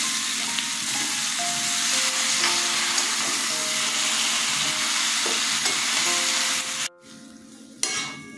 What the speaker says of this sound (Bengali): গুড়টা দিয়ে দিচ্ছি